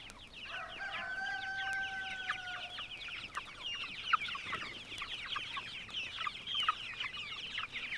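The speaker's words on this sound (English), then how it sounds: "just feed those chickens already, would you?" Free-range chickens cluck and chatter in a steady, busy stream at close to moderate distance, with a few longer drawn-out calls early on, over quiet outdoor background.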